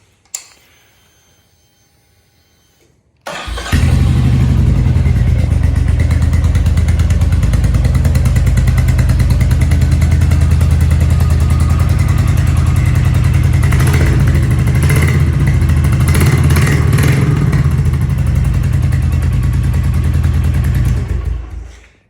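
A Royal Enfield Meteor 350 motorcycle with a modified exhaust, its exhaust gasket freshly sealed, starts up after a brief click and idles and revs loudly for about eighteen seconds, a close, steady, deep rumble with throttle swells.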